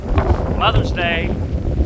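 Strong wind during a severe thunderstorm near Shelbyville, buffeting the microphone as a heavy, steady low rumble, with a brief whistling tone rising partway through.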